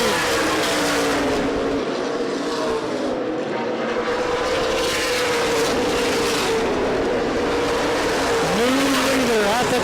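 Stock car racing at Winchester Speedway during the CRA Super Series 100: engines roar steadily and loudly throughout as cars circle the oval, with a rising pass near the end and a commentator talking over the noise.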